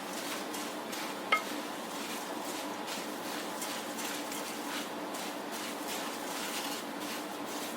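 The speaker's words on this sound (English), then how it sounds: "give that a good little mix" Spoon stirring a teaspoon of cinnamon into a mixture in a bowl, soft repeated scraping and light clinks at a steady pace, fairly quiet and close, with one sharper tap early on.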